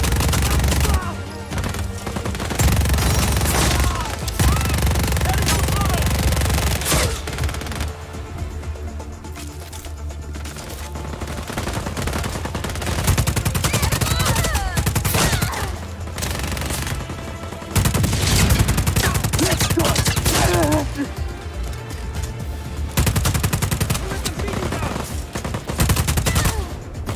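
Sustained gunfire in the video game Just Cause 4, loud and nearly continuous with heavy automatic bursts and booming blasts, easing briefly in the middle before surging again, with occasional voices underneath.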